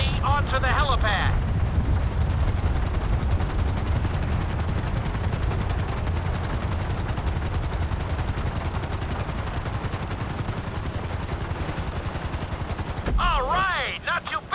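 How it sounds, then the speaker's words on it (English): A helicopter in GTA V descends onto a helipad, a loud continuous rotor chop with fast steady thumping that runs throughout, with a voice speaking briefly at the start and again at the end. "Bring the helicopter down gently onto the helipad."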